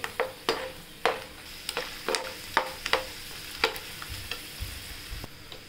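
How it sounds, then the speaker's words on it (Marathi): Peanuts frying in plenty of hot oil give a steady, fairly faint sizzle, broken by a run of sharp clicks and taps from a spoon stirring against the pan. "आणि हे छान तेलात तळून घेऊया शेंगदाणे"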